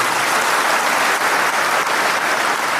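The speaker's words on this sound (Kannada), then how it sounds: "ನೀವೆಲ್ಲ ಚಪ್ಪಾಳೆ ತಟ್ಟಿದ್ದೀರಾ" An audience at a spiritual discourse by Shri Shivasiddheshwar Swamiji claps in dense, steady applause that holds at an even, loud level for about three seconds, with no voices rising above it.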